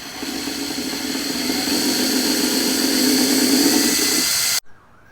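A power drill whines steadily at close range for several seconds, drilling through a Ford Focus ST body panel, then cuts off abruptly.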